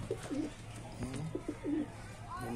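Lalban breeding pigeons coo softly in short low throaty phrases, several calls overlapping with faint background noise.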